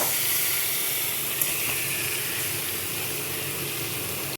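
Marinated chicken hitting hot, fried spice paste in a pan for chicken biryani, giving a loud, continuous, even sizzling hiss that holds steady throughout.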